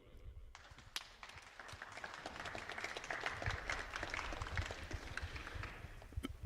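Applause from a crowd at a Silesian MMA 21 weigh-in ceremony swells into steady, moderately distant clapping that builds over several seconds, with a voice speaking at times over it.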